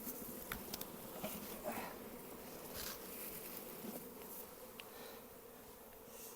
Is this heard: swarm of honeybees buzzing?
yes